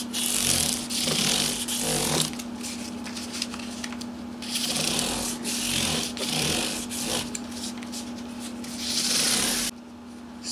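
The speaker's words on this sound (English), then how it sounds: "Sandpaper." Sandpaper works over the body of a 1991 PRS Custom 24 guitar in repeated rough back-and-forth strokes, close and scratchy, over a steady electrical hum.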